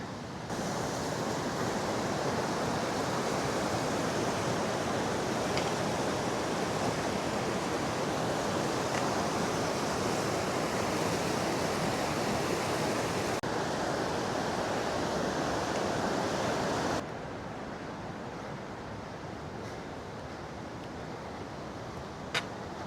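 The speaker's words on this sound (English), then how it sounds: "Got the creek flowing." A creek flows steadily among rock formations on a backcountry trail, a loud, even rushing wash that stays constant before dropping slightly in level near the end.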